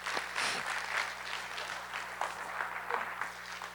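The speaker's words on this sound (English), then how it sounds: "So let's give a round of applause." Audience applause at a middle school spring choir concert, a moderate, steady patter of clapping from a crowd, heard at medium distance over a low background hum.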